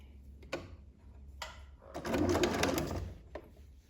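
A sewing machine stitches a T-shirt neckband layered with binding, sounding nearby in short whirring bursts and then one longer steady run of stitching.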